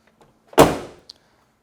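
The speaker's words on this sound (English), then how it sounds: "Door shut, one nice solid thump." A 1999 Chevrolet Suburban 1500 door swings shut with a single solid, low thump, close and loud, followed by a brief faint click, with no rattle or grinding.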